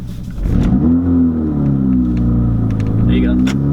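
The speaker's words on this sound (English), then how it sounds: "So I'm gonna be driving Martin's Veloster a couple miles." Hyundai Veloster with a 1.6 liter turbo engine and an aftermarket downpipe accelerating, a loud close engine note rising in pitch as it revs, with a voice talking over it.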